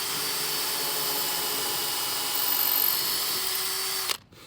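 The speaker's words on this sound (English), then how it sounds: "We're going to drill a little pilot hole since we're on the end of the wood here." A power drill whirs steadily and close for about four seconds, drilling a pilot hole into the end of a wooden board for a raised garden bed, its pitch rising slightly near the end before it cuts off abruptly.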